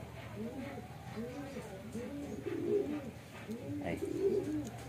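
Soft, repeated racing pigeon coos in a rolling rhythm, fairly close inside a loft, with a faint background hum.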